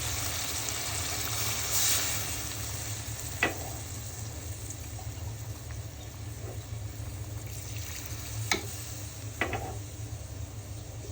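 Taro and shrimp curry masala sautéing in a pan, a steady low sizzle with a few sharp scrapes and clinks of the spatula spaced through it, close and unvoiced.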